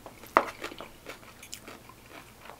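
Crunchy pork is chewed at a Filipino restaurant, Mama Fina's in Elmwood Park, NJ: one sharp, close crunch followed by softer, irregular chewing and crackling bites.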